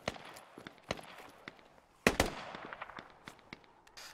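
Gunfire in the military shooter game Squad, a scattering of sharp cracks and pops at moderate distance with one louder double burst near the middle, no voices.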